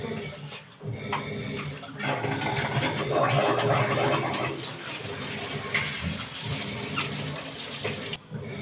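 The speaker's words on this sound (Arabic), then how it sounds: "خلاص شطفتهم تحت الحنفية في طبق طبعا كبير كده" Tap water runs steadily into a large bowl as cabbage leaves are rinsed beneath it, a close, continuous splashing hiss with shifting intensity and a brief break near the end.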